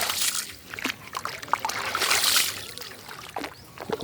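Water trickles and splashes as a newly built house under construction is cured, an uneven close-up patter and slosh with brief louder gushes; no talking.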